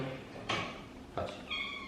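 A pet cat at home gives short, close vocalizations, two brief meow-like calls with a rustle or bump between them and a faint tonal sound at the end.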